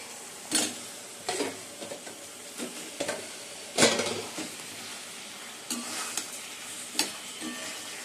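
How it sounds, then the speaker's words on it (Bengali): Ginger, garlic, cumin powder, green chillies and Kashmiri chilli sauté in a pan with a soft continuous sizzle, punctuated by repeated scraping stirs and spatula knocks. "আদা রসুন, একটু জিরে গুঁড়ো আর কাঁচা লঙ্কা, কাশ্মীরি লঙ্কা ভালো করে কষিয়ে নিচ্ছি"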